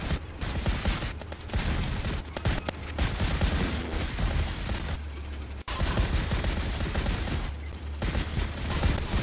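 Sustained enemy machine-gun fire in the Volcanoids game, a dense fusillade of rapid overlapping shots that rattles loudly and continuously for about nine seconds with only a momentary break.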